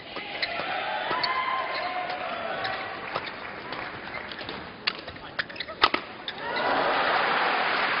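Crowd at a 2008 Japan Open badminton men's doubles match rises into a loud, swelling roar in the last seconds, after scattered shuttle hits and court noises.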